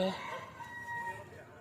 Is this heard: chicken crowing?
yes